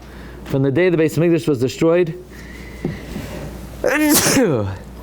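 A single sharp sneeze bursts out near the end, following a stretch of someone talking.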